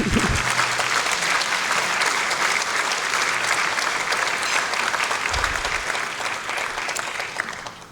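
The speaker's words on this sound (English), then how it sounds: "Yes, you can applaud him." Audience applause for General John Philip Abizaid at an awards dinner, a full, sustained burst of clapping from a large room that stays loud and then tapers off at the close.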